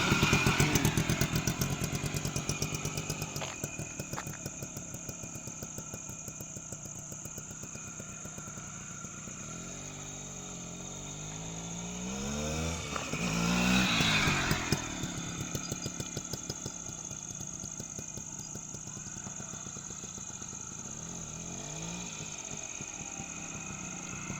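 A vintage Suzuki Samurai motorcycle engine idling steadily nearby, a continuous even putter with a slight swell in revs midway, no voices.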